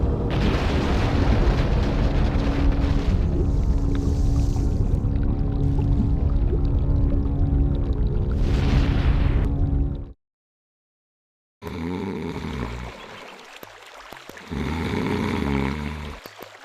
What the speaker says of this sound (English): I saw the explosion in the river.